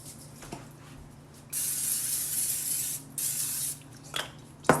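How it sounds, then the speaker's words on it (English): Cooking spray hisses from an aerosol can onto the bottom of a baking pan in two long steady bursts, close and fairly loud, with a few brief spurts and light handling clicks around them. "I'm just going to grease the bottom with a little bit of spray"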